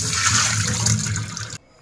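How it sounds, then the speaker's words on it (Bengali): Onion and sweet pumpkin pieces washed under running water, a loud continuous gush of flowing water that cuts off abruptly near the end, leaving quiet. "আমি এখন পেঁয়াজ আর মিষ্টি কুমড়াগুলো ধুয়ে নেব।"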